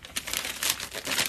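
A Priority Mail flat rate envelope crinkles in irregular papery bursts as shorts are packed into it, close and moderately loud, with no talking.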